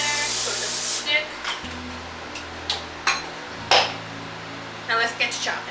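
Cooking spray hisses onto a foil-lined baking sheet for spaghetti squash in a home kitchen, one steady spray burst followed by light clinks and taps of pans and utensils.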